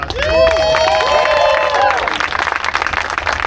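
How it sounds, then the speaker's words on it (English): Panel audience at San Diego Climate Week claps and cheers for a former Imperial Beach mayor, with loud applause and whoops swelling for about two seconds and then thinning into scattered claps and murmur. "Let's give her a big round of applause."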